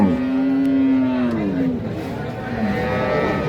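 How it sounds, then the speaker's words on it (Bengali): A large cow moos loudly and close by at a crowded cattle market, a long drawn-out low call that bends in pitch, followed by a shorter second low, with faint market bustle behind. "বিশাল একটা গাভী সঙ্গে একটা বাচ্চাও দেখতেছি"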